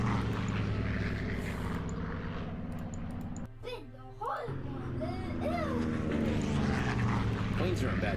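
Aircraft engines from the Total Victory World Conflict 1939-1945 video game, a loud steady propeller drone that briefly drops away before returning, with a voice talking over it.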